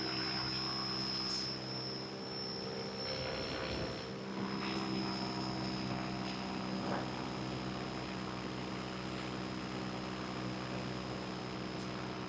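An electric paramotor propeller drones steadily in flight, a continuous tonal whir with a high whine, holding even and moderately loud with slight shifts as the throttle comes up, and no talking.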